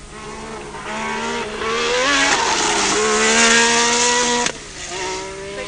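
A 550-horsepower Renault 5 Turbo race car laps the Paul Ricard circuit, its engine note climbing through gears in rising whines, loud and close, then cutting sharply before picking up again.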